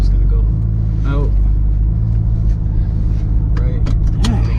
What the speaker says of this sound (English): So watch how I reverse out the spot